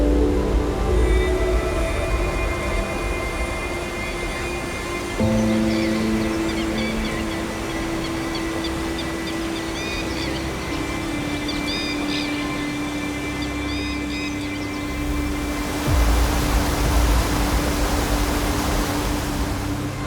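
Yangpidong waterfall pours out of a limestone karst cave, a loud unbroken roar of falling water that fills the scene from close by, with faint bird calls above the rush.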